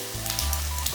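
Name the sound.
stir frying kimchi fried rice with seaweed and sesame oil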